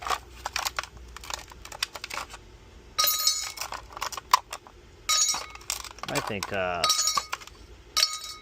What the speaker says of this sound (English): Reusable ice cubes